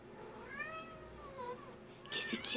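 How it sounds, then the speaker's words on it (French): A cat meows several times downstairs in drawn-out, rising and falling cries, fairly close and soft, followed by a brief sharper noise at the end. "Oui, il y a un minou en bas."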